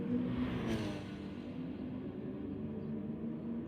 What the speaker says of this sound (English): he's revving the nuts off it there